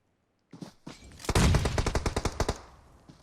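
Gunfire in the video game PUBG Mobile during a solo match, starting with a single shot and then a rapid, loud spray of evenly spaced rounds that trails off, with no voices.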